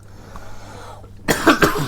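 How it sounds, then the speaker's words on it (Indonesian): A single person coughs two or three times in quick succession, close and sharp, after a quiet moment. "Batuk lagi."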